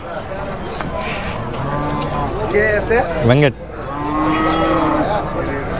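Cows and calves moo loudly at an outdoor cattle market, with several drawn-out calls rising over a busy crowd murmur while people talk nearby.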